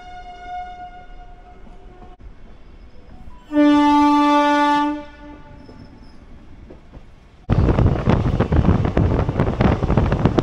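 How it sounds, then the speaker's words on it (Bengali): A train horn blares loudly for about a second, then a fast train rushes past with dense, roaring rail and wind noise, heard from aboard the Black Diamond Express. "ট্রেনও কিন্তু আমাদের ঝড়ের গতিতে এগোচ্ছে"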